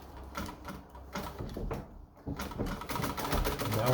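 A vintage Pfaff 130 treadle sewing machine sews a straight stitch, with a rhythmic mechanical clatter and thumping of the treadle that grows louder and faster over a few seconds, close by.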